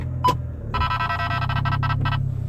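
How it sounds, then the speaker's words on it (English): Escort Redline radar detector sounding an alert inside a parked car in a garage: a single short chirp, then a rapid string of loud, close electronic beeps in quick pulses. "That's my Escort red line radar detector going off."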